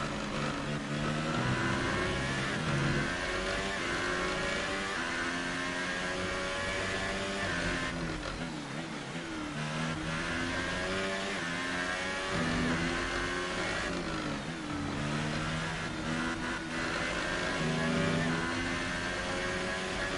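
Roaring McLaren Formula 1 engine from the F1 2018 racing game at the Austrian circuit, high and buzzy with steady revving and shifting pitch, loud and continuous throughout with a couple of brief dips.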